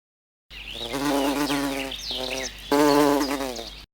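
Close, steady buzzing of bees with wavering pitch, rising and falling as the insects move around, with no voices.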